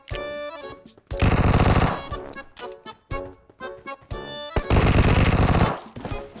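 Gunfire in the mobile game PUBG Mobile: loud rapid automatic bursts in two long volleys, with shorter scattered shots between them and no talking.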